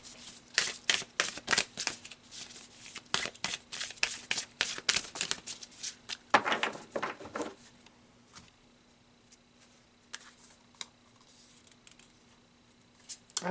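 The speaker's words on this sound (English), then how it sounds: "So let's pull some more cards" Tarot cards being shuffled and pulled, a quick run of crisp riffling flicks followed by sparser card snaps and soft slides, close and fairly quiet with no talking.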